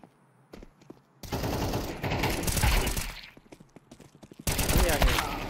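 Rapid bursts of gunfire in Counter-Strike crackle in clusters, with rattling mechanical clicks between volleys and a quieter gap before a final loud burst.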